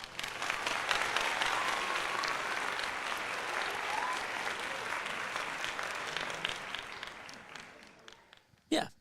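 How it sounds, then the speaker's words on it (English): Sustained applause and clapping from a crowd, steady and fairly faint throughout, tapering off at the end with a short sharp knock right at the close. "Let's give him a little round of applause."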